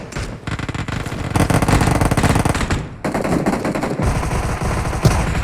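Loud, close automatic gunfire from a mobile battle-royale shooter game, dense rapid bursts firing almost continuously with a brief break midway and no talk over it.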